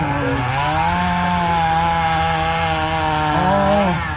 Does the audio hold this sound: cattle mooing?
no